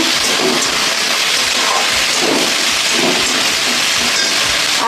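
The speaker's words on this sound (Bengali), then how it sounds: "আর দুটো কাঁচা লঙ্কা দিয়ে এটা ভাজবো" Potatoes and two green chillies fry in a pan with a steady, loud, unbroken sizzle and hiss that runs without pause and with no voices.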